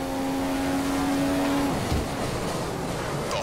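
A Formula 1 car in F1 2015 races through the Canadian circuit, heard as a steady, high engine whine that drops off partway through, leaving a broad mechanical roar with no talk.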